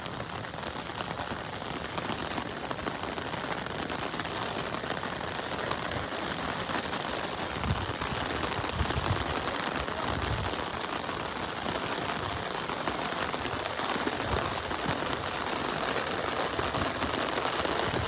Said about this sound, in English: You can hear that rain hitting my umbrella here.